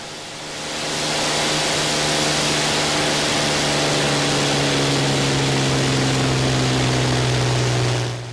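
An Allison V-1710 aircraft engine runs up to full power on a dynamometer test stand, a loud sustained roar with a steady droning tone that swells in over the first second and holds evenly before easing slightly at the end.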